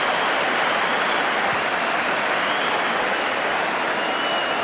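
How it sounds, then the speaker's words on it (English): Football crowd at Stamford Bridge applauding a great save, a broad, even wash of distant clapping and crowd noise held at a constant level throughout. "Applause all around Stamford Bridge for that one."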